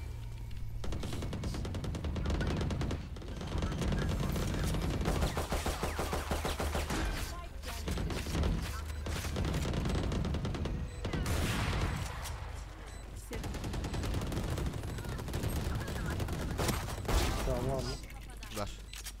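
Gunfire in a tactical shooter video game: repeated bursts and single shots, some sharp and close, others duller, scattered among game effects, with players talking over much of it.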